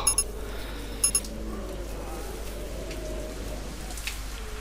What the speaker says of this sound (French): Il s'est mis à pleuvoir